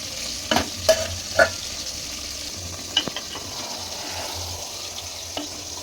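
Potatoes and pieces of home-killed country chicken fry in an open pan, a steady sizzling hiss broken by a few sharp spatula knocks and scrapes near the start and around the three-second mark, with no talking.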